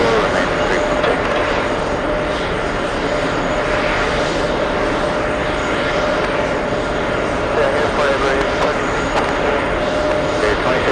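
A KLM jet airliner taxis quickly at JFK, its steady engine roar broad and continuous throughout, with radio chatter and voices running underneath.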